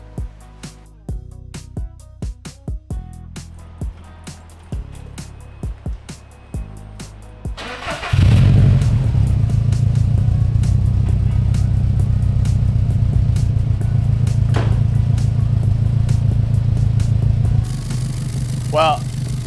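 A Subaru WRX/STI engine with a newly installed catback exhaust cranks and catches around the midpoint, then settles into a loud, steady, deep exhaust idle after some earlier clattering sounds.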